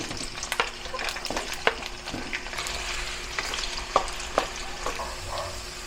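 Potatoes and carrots fry with bell pepper in a pan, giving a steady close sizzle with scattered stirring scrapes and clinks throughout.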